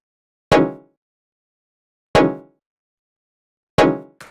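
An Operator synthesizer patch built from several oscillators including a square wave plays dark, jazzy chords before any effects, three sharp separate plucked hits spaced well apart, each decaying quickly, with a short fourth blip at the end.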